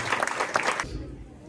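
Outdoor audience applause at the inauguration of the statues of Mr and Mrs Singainy at the Chapelle la Misère in Villèle, Saint-Paul: a lively burst of clapping that cuts off after under a second, leaving quiet room noise.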